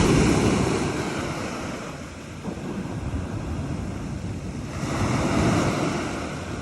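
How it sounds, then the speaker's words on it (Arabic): Sea waves breaking on a stony, rocky shore in Spain, continuous roaring surf that swells and recedes with steady wind noise on the microphone. "كنتمناو تكونوا سمعتوا شوية د البحر ديال اسبانيا"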